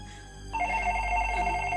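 A telephone in a Konkani film scene starts ringing partway through with a clear, steady electronic ringtone, close and fairly loud over a low background hum.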